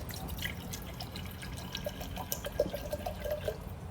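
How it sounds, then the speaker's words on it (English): Fertilizer-laced water pours into a glass for wick-watering African violets, a soft trickle with small drips and a rising, ringing fill tone toward the end. "I'm gonna fill up the glass"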